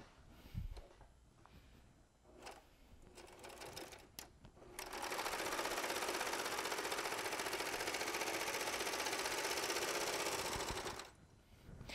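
A Baby Lock serger stitches fabric with woolly nylon thread in the upper looper, starting with a few short buzzing bursts, then running in one long steady rapid whir before stopping, loud and close with no talk.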